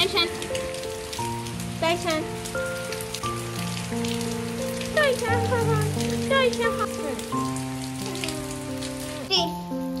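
Evening rain falls over a village, a steady pattering wash of drops on surfaces heard beneath sustained musical tones throughout.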